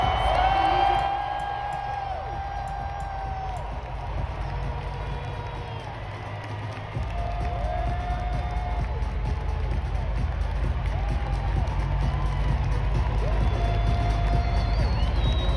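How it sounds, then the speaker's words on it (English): A large stadium crowd cheers athletes, a broad continuous roar with whoops and shouts swelling and holding steady throughout, dense and fairly loud with no single voice standing out. "Everyone's cheering on the athletes."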